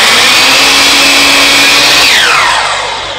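A compound miter saw cuts through a small piece of wood, a loud steady motor whine running throughout as the blade passes through, then the pitch drops and fades as the saw spins down.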